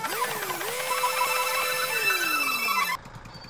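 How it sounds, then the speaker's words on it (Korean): A telephone ringtone plays loud and close, a sustained electronic melody with gliding tones lasting about three seconds before cutting off abruptly. "전화 오는데?"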